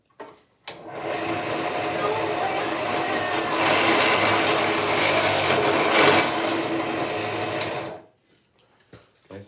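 A Harbor Freight Central Machinery drill press drilling and slightly burning at the wrong speed, a loud continuous whining motor roar for about seven seconds that stops abruptly, with faint clatter after.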